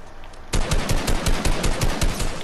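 Rapid automatic gunfire from a video game where the player is using a mech, starting abruptly after a quiet moment and continuing as a loud, steady burst of rhythmic shots.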